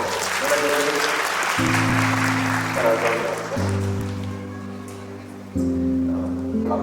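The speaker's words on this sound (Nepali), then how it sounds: "ठुलो ताली बजाइदिन्छौँ।" Applause breaks out at a Nepali wedding ceremony, a crowd clapping steadily at a moderate distance while sustained musical tones play beneath and gradually fade.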